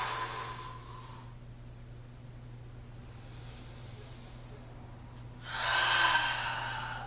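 Deep yoga breathing, one slow exhale at the start, a quiet pause, then a strong inhale rising near the end, close and clear over a faint low hum.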